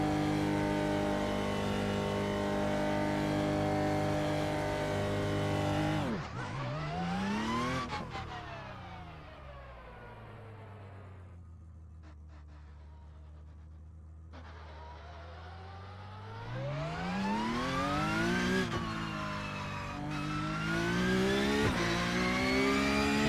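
A Porsche Cup 992.2 race car in iRacing launches at the Nürburgring: loud engine revving, dropping to a low idle, then rising again in climbing surges through the gears with faint tire noise.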